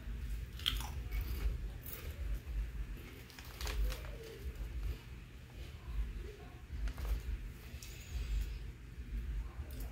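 Crunchy Rap Snacks potato chips, the Rick Ross and Lil Baby flavors, are bitten and chewed close to the mic in repeated crunching bursts over a low background hum.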